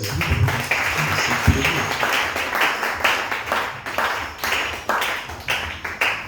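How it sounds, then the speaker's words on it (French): A church congregation claps to acclaim the Lord, a steady run of fairly close handclaps with a few voices underneath. "On acclame le Seigneur."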